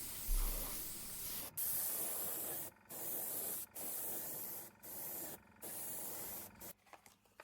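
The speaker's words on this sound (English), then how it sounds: "But after the first coat, I go with my airbrush." An airbrush sprays dye onto leather in a series of close, soft hissing bursts separated by brief pauses, ending with a few short spurts.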